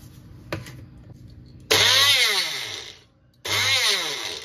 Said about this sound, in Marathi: हे मसाले मी मिक्स करून मिक्सरच्या भांड्यामध्ये ना वाटणार आहे 1 मिनिटासाठी